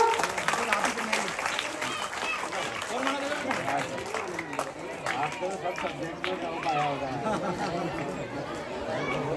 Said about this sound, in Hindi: हमारे आदरणीय कृष्णा सर के लिए जोरदार तालियां दें बच्चों।